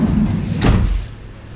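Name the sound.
closing the doors of a Fiat Doblo van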